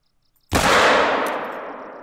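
A single sharp handgun shot fired at a bison in TheHunter: Call of the Wild, a loud crack with a long ringing decay trailing off.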